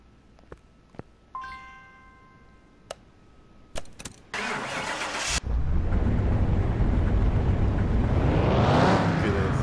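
A car in the video game Car Mechanic Simulator 2021 clicks and chimes, cranks and starts, then its engine revs hard on a dyno, building to a loud, sustained roar with rising pitch.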